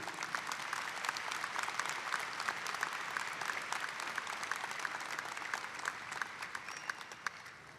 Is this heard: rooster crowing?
no